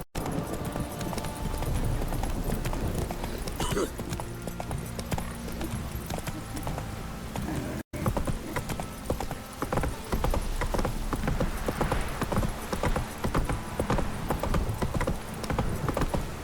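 Horse hooves gallop in The Witcher 3, a fast, continuous clip-clop rhythm close and prominent, broken by a brief cut partway through, with no talking over it.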